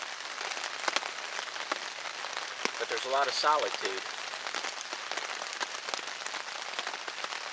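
Steady rain patters on a wooded forest floor on a rainy winter day, a soft, even hiss with scattered drops, as someone talks briefly in the middle.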